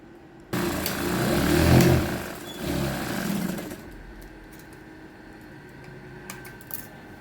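Domestic sewing machine stitching a full-cotton cloth bag, a steady mechanical whirr that starts abruptly, swells for a few seconds, then drops to a quieter hum near the end.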